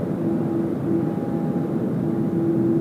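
A Boeing 767 climbs out at Sydney Airport on a windy night, its engines a steady, loud low roar with a faint high whine.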